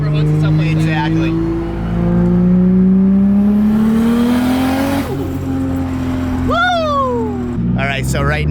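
A 2JZ-swapped Nissan 300ZX revs hard through a flyby, its engine note climbing and then dropping as it passes, loud and close, with a bright squeal near the end and people talking faintly over it.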